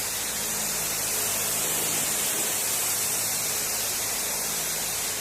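A continuous, steady hiss of a spray gun atomizing fast-dry automotive clear coat, close and loud, unbroken for several seconds without any talking.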